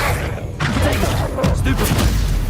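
A Bombarda blasting spell explodes in Hogwarts Legacy, giving a loud, booming burst with crashing impacts, followed by a second heavy blast in quick succession amid continuous game noise.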